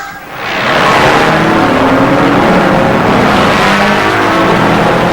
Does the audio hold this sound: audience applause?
no